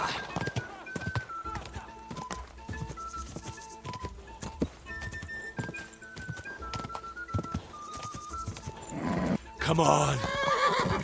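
A horse galloping in Kingdom Come Deliverance 2, rhythmic hoofbeats with a loud neigh near the end, under game music and a man calling out.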